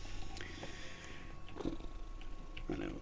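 A cat purrs softly and continuously in a quiet room, with faint rustling and small sniffs around it.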